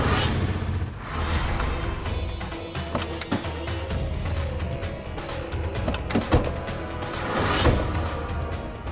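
Vehicle braking to a stop, with a hiss of air brakes, mechanical clunks and rattles, and a shrill squeal near the start, fairly close with no talk.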